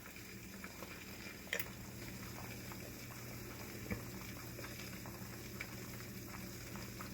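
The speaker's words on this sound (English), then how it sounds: "Looks like we got some action here. Really starting to bubble nicely. That means it's starting to cook." Beaten eggs bubbling and sizzling in a pan while an omelet cooks, a steady faint low crackle and simmer with a couple of soft clicks, no talking.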